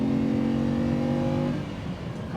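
A car engine revs under load while driving, a strong droning tone that holds steady and then drops away as the throttle eases, close and loud with road noise beneath.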